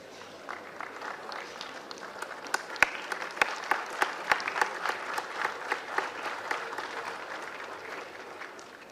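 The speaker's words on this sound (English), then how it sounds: "I request you all to please rise and give a standing ovation to Professor Tomar, our dear and respected chairman." A standing ovation for Professor Tomar, the chairman, at a NIMS University convocation in Jaipur: a large audience claps steadily and evenly, with a few sharp individual claps standing out near the front.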